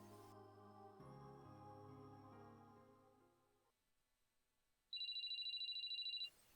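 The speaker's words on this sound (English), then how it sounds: "We continued our search for Robbie in silence until Shidou's phone rang." Mobile phone rings in a dramatized audiobook scene, a bright electronic ringtone trilling for about a second and a half, entering abruptly after a soft musical passage fades out.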